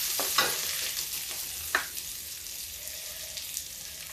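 Onion and garlic sizzle in a hot pan with cumin seeds and two chillies, a steady hiss with a few sharp stirring clatters near the start, close and moderately loud with no talk.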